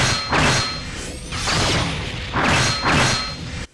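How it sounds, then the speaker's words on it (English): Four heavy swooshing blade strikes land in a steady rhythm in the PS Vita game Damascus Gear: Operation Tokyo, each a loud, full whoosh ending in a dull impact. "the sound of a blade hitting its target is pretty cool"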